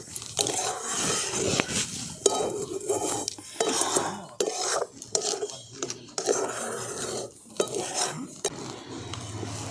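A spoon scrapes and stirs steadily through a sugary mixture in a pan while cooking chamcham with nuts, producing repeated close scraping and clinking strokes with brief pauses throughout.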